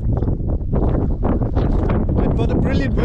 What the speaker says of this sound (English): It's a bit windy, but that's the way it is in the roaring 40s.